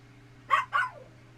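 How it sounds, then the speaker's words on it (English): Two quick sharp dog barks in close succession from a film soundtrack, fairly loud over a low steady hum, with no talking. "Dog."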